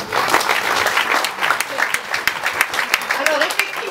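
Audience applause in a hall honouring women golfers after a competition, steady dense clapping throughout with a voice speaking over it.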